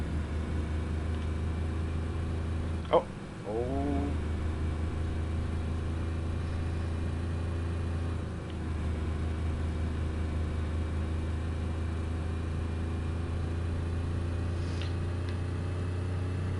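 Car engine in the DayZ video game, heard from inside the cabin, holds a steady low idling drone for the whole stretch, with a brief vocal exclamation near the start.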